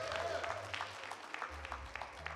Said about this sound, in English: Let's get God a hand clap of praise.